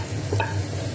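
Spices sizzling as they hit hot oil in a pot while a pumpkin curry is cooked, a steady close crackle with a brief stirring scrape, no talking.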